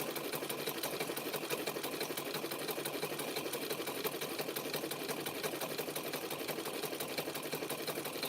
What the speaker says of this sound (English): This sewing machine doesn't go super fast.